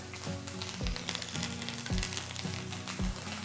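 Chorizo cream gravy sizzles and bubbles in a pan, a steady close frying hiss with faint rhythmic stirring scrapes and no talking.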